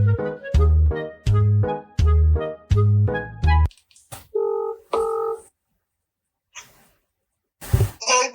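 A telephone being dialed for a call: a steady series of loud, evenly spaced keypad tones, then a few separate tones and a short burst, with no talk.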